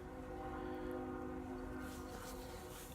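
Distant train rumbling past, a low steady drone with faint tonal hum that swells slightly and fades, far off and quiet.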